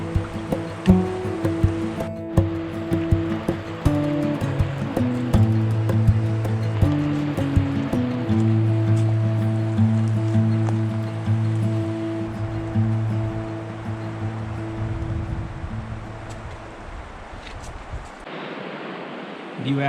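River flowing along a hiking trail, a steady broad rushing wash that runs close and unbroken throughout.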